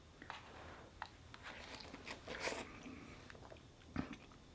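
Noodles being eaten close to the microphone in a cabin, with soft wet chewing, bites and intermittent slurps in irregular bursts, quiet and without speech.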